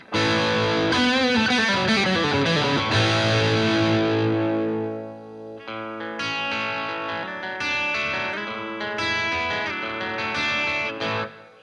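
A distorted electric guitar played through a Novo Idris rings out through heavy reverb, chords sustaining and washing away before a new set of strummed notes enters.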